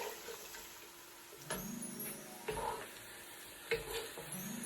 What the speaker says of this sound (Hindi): ऑनियन को प्रॉपर ब्राउन कर लेंगे